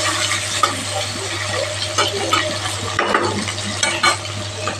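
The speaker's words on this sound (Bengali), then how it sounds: "পেঁয়াজটা রসুনটা ভাজা হলে আলুটা দিয়ে দিব" Onion and garlic fry in a pan in a home kitchen with a steady close sizzle throughout. A spoon stirs and scrapes against the pan at intervals, with no talking.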